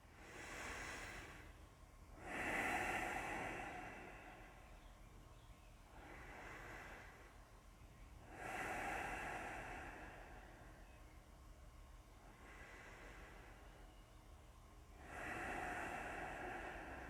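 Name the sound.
deep breathing during yoga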